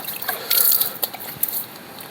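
Cold tap water splashes as someone washes their face, with a few short bursts of running and dripping water and wet splashes close by.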